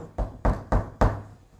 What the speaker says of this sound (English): Imagine you hear a knock on your door one morning.